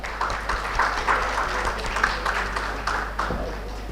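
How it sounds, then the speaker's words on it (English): Conference audience at an urban railway infrastructure event giving a round of applause to welcome a speaker, a brief burst of scattered clapping in a hall with a low hum underneath. "Can we please have a big round of applause for sir?"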